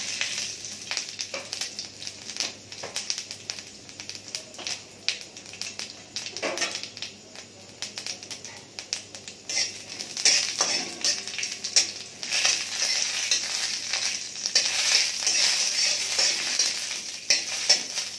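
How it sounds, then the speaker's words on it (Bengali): Panch phoron seeds and a dried red chilli fry in hot oil, giving a steady crackling sizzle with intermittent stirring scrapes that swell louder toward the end, heard close up. "তেল গরম হয়ে গেছে, এবার এর মধ্যে 5 ফোড়ন দেব আর একটা শুকনো লঙ্কা"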